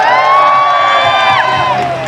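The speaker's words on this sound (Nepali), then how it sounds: "एकचोटि जोरदार ताली केयर सिंह लिम्बूका लागि।" A crowd cheers and whoops loudly for Kehar Singh Limbu at his birthday celebration, with voices rising together, then fading slightly toward the end.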